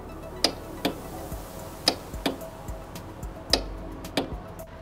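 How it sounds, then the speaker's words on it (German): Electric-start relay on a scooter that will not start, clicking in sharp, isolated ticks, about seven or eight of them in an irregular rhythm, close and fairly quiet with no voices. "Oder aber auch solche Klickgeräusche."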